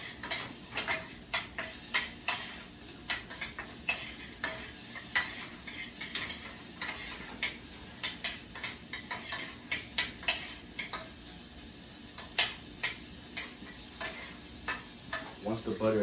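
A small piece of butter is stirred around a hot pan as it melts. It sizzles steadily while a utensil scrapes and taps against the metal in quick, irregular strokes.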